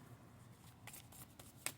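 Tarot cards being shuffled by hand, a soft quiet series of riffling and sliding flutters ending in a sharper snap of cards.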